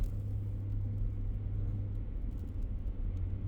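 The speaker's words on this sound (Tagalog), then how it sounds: "Yung pickup truck is diesel." Diesel pickup truck passing: a low, steady engine rumble and road noise, moderately close, continuous for a few seconds with no speech.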